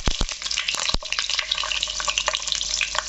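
Curry leaves with two dried and two green chillies hit hot oil for a Bengali snake gourd fry, giving a loud, steady crackling sizzle with sharp spitting pops near the start and no talk.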